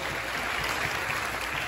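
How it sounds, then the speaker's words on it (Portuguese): A church congregation claps together in steady, loud applause filling the hall, with no talking over it. "Aplauda Ele bem forte."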